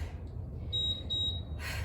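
A single thin, high electronic beep from a workout interval timer holds steadily for about a second, surrounded by low background rumble and a brief burst of hiss at the end.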